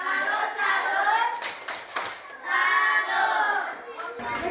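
Rhythmic tepuk salam clapping salute by a group at a school session, patterned hand claps in bursts with children's voices chanting along over the beats.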